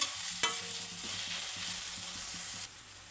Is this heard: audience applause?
no